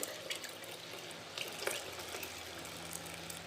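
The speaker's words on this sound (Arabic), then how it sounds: "ضفت له كمان نص لتر من الميه" Water pours into a pot of tomato sauce for Egyptian koshari, a soft, steady splashing trickle with a few louder gurgles, faint and close, with no one talking.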